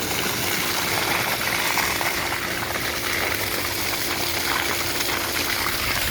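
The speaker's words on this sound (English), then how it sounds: "Water should shoot out of here for a minute." Green pool water gushing steadily from a pool pump filter during a backwash, a loud, continuous rushing wash with no pauses.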